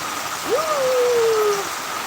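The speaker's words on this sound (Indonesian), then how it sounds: "Aku karena hujan besar di Ambon." Heavy rain falling in Ambon makes a steady, dense hiss throughout, with a brief rising-then-gliding tonal whistle partway through and no voices.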